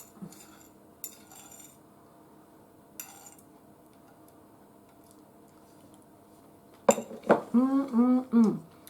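Metal cutlery clinks a few times against a plate in short, sparse taps over a quiet room, followed by a louder voiced sound at the end.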